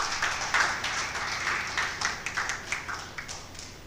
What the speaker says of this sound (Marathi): सगळ्यांसाठी एकदा जोरदार टाळ्या वाजवूया आपण आपल्या सगळ्यांच्या पेशन्ससाठी